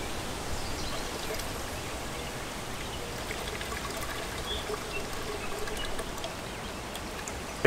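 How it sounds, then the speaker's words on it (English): Beer from one can poured into a container of water for a lawn aeration tonic, a steady close trickling, splashing pour lasting the whole stretch at even loudness. "Go ahead and pour 1 can of beer in for 20 gallons of water."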